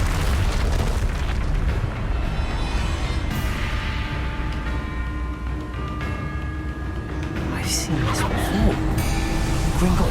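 Incendio fire spell bursts and booms in Hogwarts Legacy, loud whooshing blasts layered over constant game music and rumbling effects, with a sharper burst near the end.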